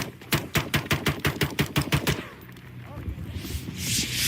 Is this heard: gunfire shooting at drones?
yes